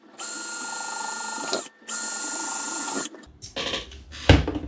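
Holes are drilled in an Eryone spool storage box: two steady, high-pitched whirring drill runs of over a second each, then clattering handling noises and a sharp knock.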